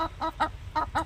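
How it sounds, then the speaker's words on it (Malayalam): A grass-eating hen clucks in a steady series of five short, close calls spaced about a fifth of a second apart, with a low background rumble underneath. "പുല്ലു തിന്നും കോഴി"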